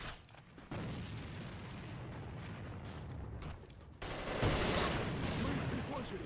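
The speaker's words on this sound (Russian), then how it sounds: "бросаю гранату!" Grenade blast and gunfire in a video game, a dense continuous roar of shots and booms swelling louder near the end, with no talk.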